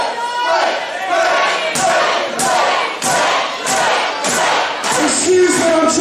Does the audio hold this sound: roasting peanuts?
no